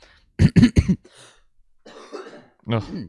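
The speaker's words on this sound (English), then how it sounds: "Pardon me, chesty cough." Three quick, deep coughs close up, followed by a muffled breathy throat sound and a short murmur afterward.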